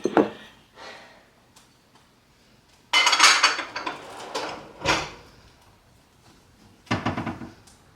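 A mini Dutch oven is handled in a home kitchen, with several separate close clunks, lid-like scrapes and knocks between quiet pauses, and no talking.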